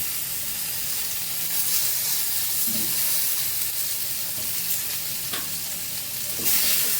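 Raw mango pieces frying with ground mustard paste and salt in a pan, a steady close hissing sizzle punctuated by occasional stirring scrapes.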